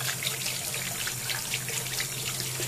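Water pours steadily into a container being filled for home PCB etching, giving a continuous close splashing rush with no speech.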